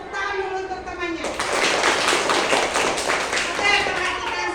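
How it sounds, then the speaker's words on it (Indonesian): Children in an Indonesian classroom clap for a classmate, a dense burst of many hands that starts suddenly after a second of quiet and keeps going steadily at close range. "Tepuk tangan dulu untuk temannya."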